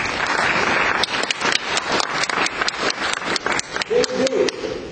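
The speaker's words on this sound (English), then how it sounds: "Applause, guys, to those guys" A room of seminar attendees claps in a dense, uneven burst of hand claps that stays loud and steady for a few seconds, with a brief voice near the end.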